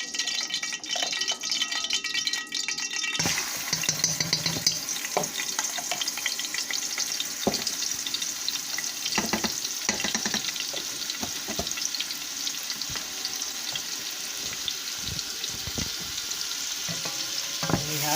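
Chopped garlic and pepper hit hot oil in a pan and sizzle steadily, loud and close, with occasional spoon scrapes and knocks as the mixture is stirred.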